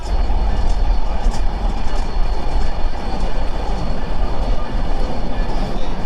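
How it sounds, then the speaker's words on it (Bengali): Jahanabad Express on the Dhaka-Khulna line near Lohagara, Narail, during its inaugural run, makes a loud, steady rolling rumble and rail clatter from close by, with no talk. "এই ছিল আমাদের এক্সপ্রেস ট্রেন যেটা জাহানাবাদ এক্সপ্রেস ট্রেন"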